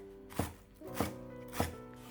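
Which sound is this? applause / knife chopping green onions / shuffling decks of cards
knife chopping green onions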